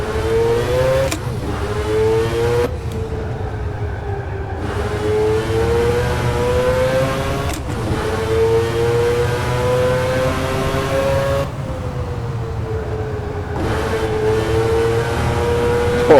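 A Group C race car engine in the rFactor 2 sim at Spa, loud and close, climbs through the revs in long pulls, cutting sharply at each gear change before winding up again, with no talk.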